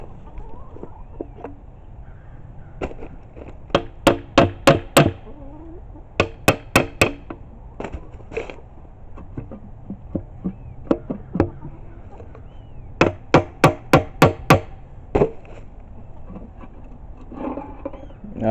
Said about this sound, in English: You need a couple of hammer taps.